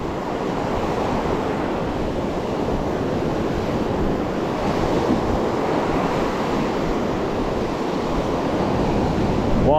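Ocean surf breaking on a beach where someone is fishing, a loud steady wash of waves with wind rumbling across the microphone throughout and no voices.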